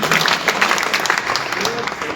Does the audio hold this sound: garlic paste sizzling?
no